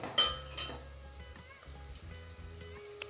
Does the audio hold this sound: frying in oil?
yes